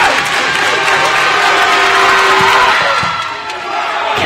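A packed men's volleyball arena crowd during a match against Pepperdine cheers and applauds loudly and continuously, with whoops and shouts rising over dense clapping, dipping slightly near the end.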